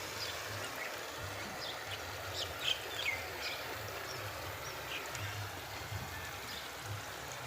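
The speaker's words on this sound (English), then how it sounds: "As you can see, fresh water continues to be lost." Continuous rushing, trickling fresh water leaking from a broken pipe close by, with faint chirps and a low rumble in the background.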